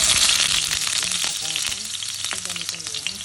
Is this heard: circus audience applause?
no